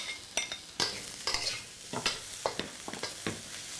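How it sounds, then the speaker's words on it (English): Lemongrass and galangal stir-fried in a pan, a quiet close sizzle broken by repeated sharp scrapes and taps of the utensil in an irregular rhythm. "along with lemongrass and galangal. Stir it for 1 minute or until it's soft."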